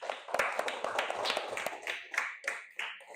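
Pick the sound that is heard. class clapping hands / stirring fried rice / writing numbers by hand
class clapping hands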